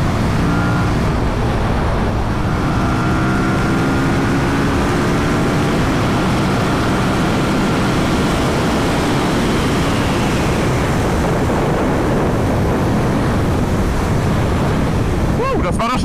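A 2019 KTM 1290 Super Duke R motorcycle accelerating on the road, its engine rising in pitch under heavy wind rush, loud and continuous for most of the stretch.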